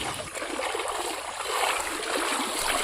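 Water flowing steadily over a dam where it runs about knee-deep, a continuous broadband rush and trickle close by with no talking.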